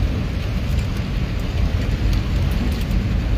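Heavy rain pours down at Holy Cross Memorial Cemetery, a loud, dense, continuous roar of falling water with no voices over it.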